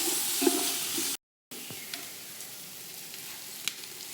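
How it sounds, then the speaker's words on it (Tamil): Ginger garlic paste sizzling in a pan with golden-fried onions for ghee chicken biryani, a steady close frying crackle broken by a brief silence, with faint stirring clicks. "இஞ்சி பூண்டு பேஸ்ட் போட்டுடலாம்."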